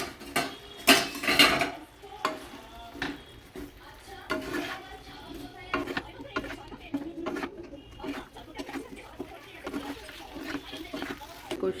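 Spoon scraping and clattering in a pan as fried cauliflower and peas are stirred into a home-cooked aloo phulkopi curry, irregular clinks and scrapes at moderate level, louder bursts early on.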